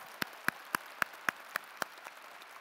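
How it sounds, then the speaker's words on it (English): Eight or so sharp, evenly spaced claps ring out one after another at a winter university commencement, crisp and fairly close against a quiet hall, with no voices. "Let's give you a round of applause."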